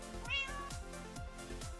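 Cat meowing in Minecraft, a short rising mew near the start with a steady game soundtrack and rhythmic low thumps running underneath.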